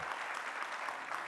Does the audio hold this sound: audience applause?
yes